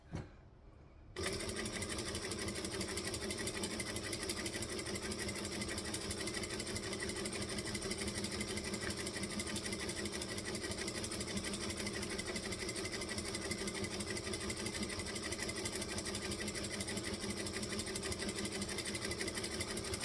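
A sewing machine stitching at a steady, even pace, its rapid rhythmic mechanical clatter starting after a brief quiet moment and running continuously, close and clear with no speech.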